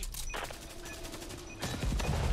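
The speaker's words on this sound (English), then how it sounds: "Okay, I'm shooting." Game gunfire in Back 4 Blood, a dense run of rapid shots and impacts with music-like tones underneath, growing louder toward the end with no talk.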